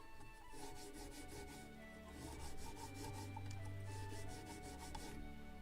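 Soft, steady rasping of Scotch-Brite rubbed along a thin gun track strip for a model of the 1776 gunboat Philadelphia, with quick back-and-forth strokes, faint and close.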